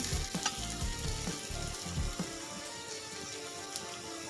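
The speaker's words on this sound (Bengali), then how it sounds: "এখন আলু আর ডিমটা ভালো করে কষে নেব" Boiled potatoes and egg sautéed in a pan, with a close crackling sizzle and a run of scraping, knocking stirs in the first couple of seconds that then settles into quieter steady frying, no speech.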